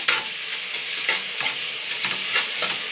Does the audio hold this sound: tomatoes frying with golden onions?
yes